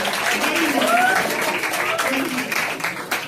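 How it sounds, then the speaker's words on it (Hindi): An anniversary event audience gives a round of applause for Sneha and Neha, a dancer and a singer: continuous, moderately loud clapping with a voice and tonal sounds running over it. "जोरदार तालियां हो जाए दोनों के लिए"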